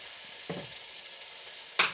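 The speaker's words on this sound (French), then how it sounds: "Donc, je continue à bien mélanger." Bulgur pilaf with tomato puree, cooked Turkish style, sizzles steadily in a pan while a spoon stirs it in two brief scraping bursts, close and fairly quiet.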